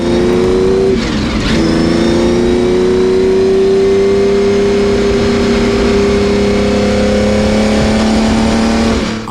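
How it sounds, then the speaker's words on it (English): Close and loud, the flat-12 engine of a Porsche 917K racing car holds a high, steady rev after a quick blip, its rasping note easing down slightly before cutting off at the end. "Hearing that flat 12 engine go through the RPM was such a profound experience."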